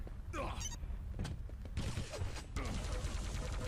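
A multiplayer match of Quake 3 brings bursts of rapid gunfire and impact thuds mixed with other game effects. They play at a steady, busy level throughout, with faint voice-like sounds in the background.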